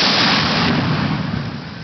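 A single round fired by an artillery battery at a university family weekend demonstration, a loud broadband boom with a sustained rumbling roar that fades slowly across the whole moment.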